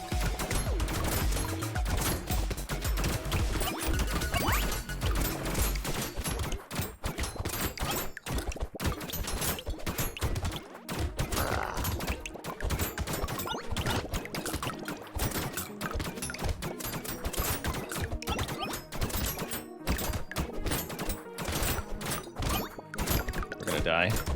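Rapid, dense bullet fire from the video game Brotato, a continuous stream of clicky shots rattling without pause for the whole stretch, loud and busy, with a voice talking underneath at times.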